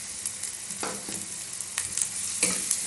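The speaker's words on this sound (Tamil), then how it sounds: "இப்போ பெரிய வெங்காயம், நல்லா 2 நிமிஷம் வதக்குங்க." Onion and carrot sautéing in a pan while a yogurt tempering dish is made, a low steady sizzle broken by several sharp scraping stirs of a spatula, close and without talk.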